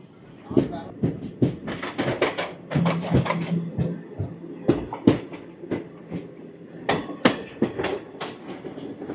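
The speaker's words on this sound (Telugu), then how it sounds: "ఒక 5 minutes హాల్ట్ తర్వాత నిడదవోలు నుంచి స్టార్ట్ అయిపోయింది మన రత్నాచల్." Ratnachal Express train 12718 pulls away from Nidadavolu station after a halt, wheels clattering in a busy run of sharp rhythmic clicks over steady rolling rumble, with people talking nearby.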